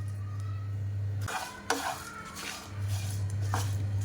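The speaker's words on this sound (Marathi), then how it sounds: "हे पण छान खरपूस आपल्याला भाजून घ्यायचे आहेत" Cumin seeds and curry leaves dry-roasting in a pan as they are stirred, soft scraping and light clinking of a spoon against the metal over a low steady hum, no voices.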